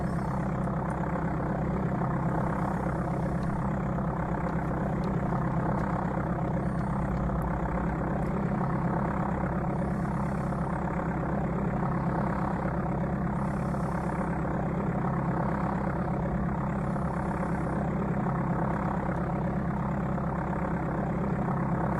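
A light aircraft engine taxiing in Flight Simulator II on the Amiga, as a steady low droning hum with a faint periodic whoosh, running continuously and alone.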